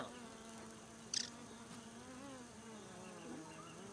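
A fly buzzes in the survival video game Grounded, a steady low drone that holds throughout with a small wavering pitch, heard fairly close and alone.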